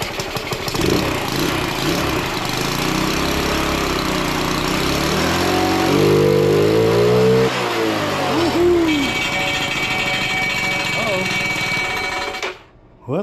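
A GY6 scooter engine on a homemade run stand starts and runs with a loud, close, buzzing drone, revving up briefly mid-way, then settles before cutting off near the end; a voice speaks over it.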